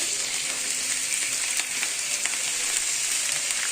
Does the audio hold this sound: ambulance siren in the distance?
no